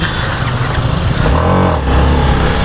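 A TVS Apache RR-310 motorcycle engine, a 2021 model, hums steadily up close, then rises in a brief rev before settling back, with no talking over it.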